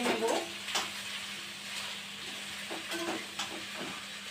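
Potatoes frying in a pan, a soft, steady sizzle with a few brief clinks and stirring sounds over it, fairly quiet throughout.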